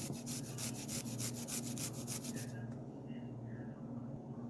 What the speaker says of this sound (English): We are going to grate the garlic.